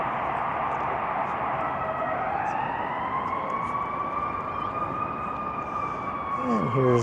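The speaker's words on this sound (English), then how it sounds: "Fire engine." A fire engine siren wails steadily on Lakeshore Boulevard beneath the Gardiner Expressway, loud and rising and falling over a constant rumble of city traffic.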